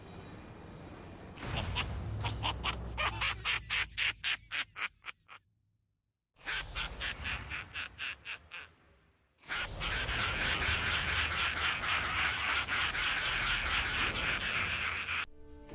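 A World of Warcraft mount being summoned and performing its special action: a loud synthetic effect of rapid rhythmic clattering pulses, a brief pause, a second pulsing burst, then a dense sustained rasping texture, with no talk.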